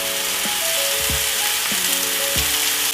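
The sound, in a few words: apples and cherry tomatoes searing in a pan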